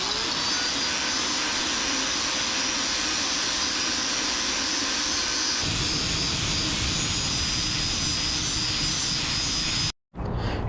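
A power sander works over stock 15-inch wheels for a 1955 wagon, a loud steady whining drone that shifts in tone partway through and cuts out briefly near the end.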